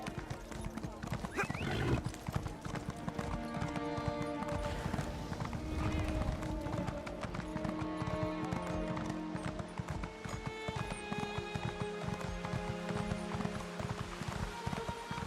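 Horse galloping in the video game Elder Scrolls Online Morrowind, a fast continuous drumming of hooves with whinnies, under game music and ambient sound, with someone talking over it.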